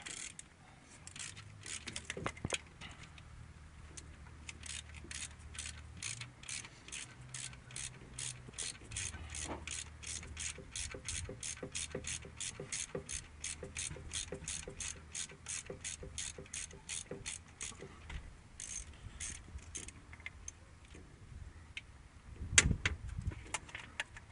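A ratchet wrench clicks in rapid, steady runs while turning bolts on a 2000 Chevy Cavalier, the close metallic pawl ticks continuing for most of the stretch with brief pauses and a sharper clank near the end.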